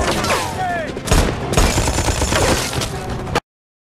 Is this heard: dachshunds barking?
no